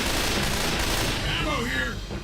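Desert Eagle pistol fire rings out in a video game as a rapid burst of loud, sharp shots with clattering echoes, followed by a voice speaking at the end.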